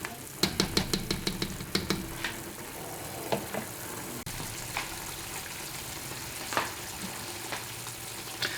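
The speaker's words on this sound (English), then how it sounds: "I've turned the heat down to a low medium, and we're just stirring this every couple of minutes" Butter melting in a pot on low-medium heat, a gentle steady sizzle and bubbling with sharp clicks and scrapes of a utensil stirring early on, quiet and close.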